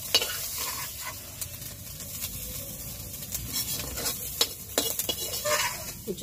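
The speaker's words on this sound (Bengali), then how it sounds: "কুচো চিংড়ি ভাজা" Small shrimp fry in oil in a pan with a constant crackling sizzle, broken by frequent scraping stirs and clinks of a utensil against the metal, close and busy throughout without speech.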